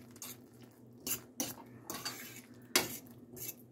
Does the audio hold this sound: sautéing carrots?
yes